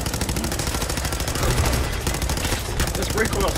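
Rapid automatic gunfire in the Fallout 4 video game, a dense continuous burst of shots filling the whole stretch at close range.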